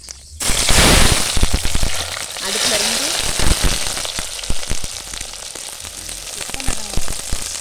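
Onions fry in hot oil for a chicken curry, giving loud, crackling, spitting sizzles with sharp pops scattered throughout, while a voice speaks briefly over the cooking.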